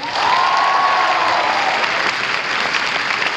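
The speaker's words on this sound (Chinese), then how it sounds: "希望大家给他们最大的鼓掌" A concert crowd at a tour show in Taichung breaks into loud, sustained applause that fills the hall, with a faint whistle or cheer riding over the dense clapping.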